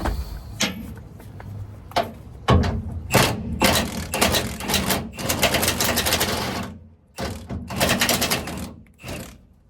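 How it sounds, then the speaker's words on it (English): A wrench turns the head of a seized bolt on a 1998-2004 Toyota Tacoma's rear suspension, producing loud, close bursts of rapid ratcheting clicks separated by brief pauses, with a few clanks, and no talking. "It was seized, so just turn the bolt head."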